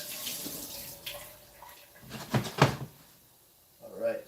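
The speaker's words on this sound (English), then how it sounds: "Let's give this a quick rinse." Water from a kitchen tap runs as a jalapeño is rinsed, a brief splashing burst under nearby chatter, with a cupboard or door knock at the end.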